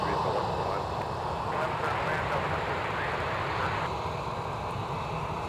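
American Airlines Boeing 737-800 jet at Minneapolis–Saint Paul airport, a steady broad engine roar at moderate distance, with a voice talking over it.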